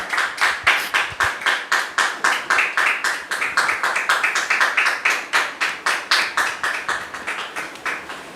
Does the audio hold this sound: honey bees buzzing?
no